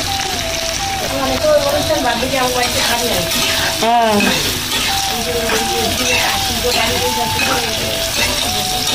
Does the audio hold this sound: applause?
no